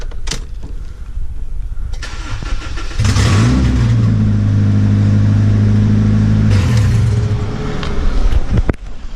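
Project car with a two-stroke exhaust, heard close as the engine cranks and fires at about three seconds, settling into a rough, loud, steady run for several seconds before cutting off near the end.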